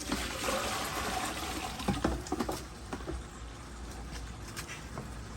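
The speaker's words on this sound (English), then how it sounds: "you're going to fill this up full of water" Water pours into a plastic bucket for hot tub chemicals, a steady close trickle and patter that runs continuously with faint splashing, and no talk.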